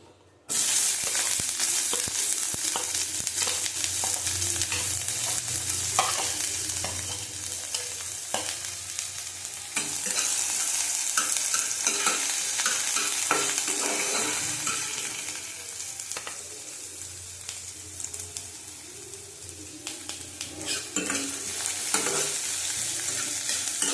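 Chopped onions frying in a little oil in a kadai give a loud, continuous close sizzle, with repeated scraping and stirring strokes throughout and no talking.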